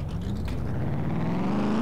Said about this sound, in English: This is a 385 horsepower motor for late model cars that we're gonna be making